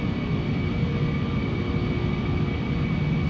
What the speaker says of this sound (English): Should be a quick takeoff.